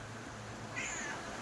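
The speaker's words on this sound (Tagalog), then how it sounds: "Pinakakain kasi natin yung pusa na to." A visiting cat gives a single soft, faint meow near the middle, set against a steady low background hum with no talking.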